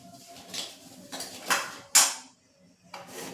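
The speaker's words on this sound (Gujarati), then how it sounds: "ગેસ બંધ કરી અને સતત આ રીતે હલાવશું જેથી મિશ્રણ છે તે કઢાઈના તળિયે ચોંટી ન જાય" A spoon scrapes and knocks against a metal kadhai as a gund pak mixture is stirred with the gas off, several sharp clanks at irregular intervals against a quiet background.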